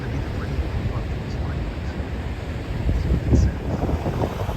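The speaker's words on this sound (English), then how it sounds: "this spot in particular is where tourists get drenched by waves coming in" Ocean surf rushes against a rocky harbor shore where waves drench visitors, a steady roar of water and strong wind buffeting the microphone, swelling briefly near the end.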